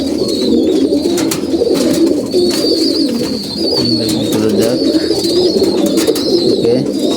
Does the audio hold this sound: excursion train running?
no